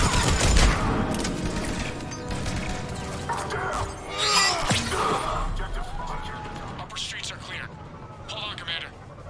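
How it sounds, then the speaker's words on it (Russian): Heavy rattling gunfire and repeated thudding grenade blasts in the sci-fi shooter Mass Effect 3, a dense, continuous battle din with voices faintly mixed into the chaos. "Гранаты летают."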